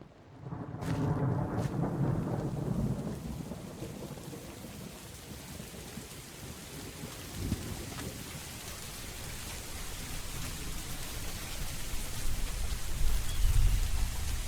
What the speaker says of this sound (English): it started raining and thundering outside, and, yeah, to be honest, it sounded very realistic.